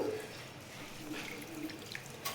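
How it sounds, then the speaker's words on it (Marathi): Rice is rinsed with clean water, a soft running-tap splash and trickle that stays faint and steady over a couple of seconds. "आपण तांदळाला छान स्वच्छ पाण्याने घेतलेले आहे धुवून"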